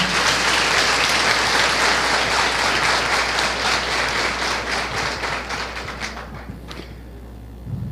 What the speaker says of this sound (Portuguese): Uma salva de palmas para essa turma aí.